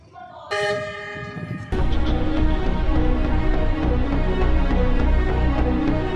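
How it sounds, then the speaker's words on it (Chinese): Train on the Laos-China Railway at Vientiane South station sounding a loud sustained horn, followed by the steady rumble and clatter of railcars rolling past close by. "这些火车是从昆明来至万象。"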